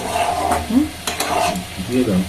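Catla fish kalia with ground spice paste sizzling and being stirred in a pan, close and loud frying hiss with scraping stir strokes and a faint voice in the background.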